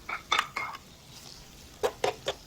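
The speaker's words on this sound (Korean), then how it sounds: "고기를 넣고 자 같이 볶아줍니다" Meat and onions stir-fried in a pan for a Spanish-style seafood paella, with a few sharp metallic clinks and scrapes of a utensil against the pan in two short clusters over a quiet background.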